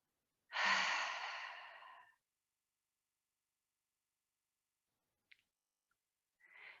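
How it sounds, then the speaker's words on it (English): A long, soft exhale through the mouth during a guided yoga breathing exercise, heard alone in near silence, followed later by a faint click and the start of another breath. "breathing in through the nose and out through the mouth"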